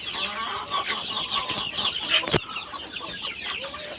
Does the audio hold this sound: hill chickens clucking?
yes